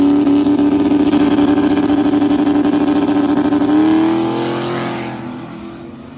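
A drag race car in the lanes of a drag strip holds a loud, steady engine drone that climbs slightly in pitch, then fades as it pulls away.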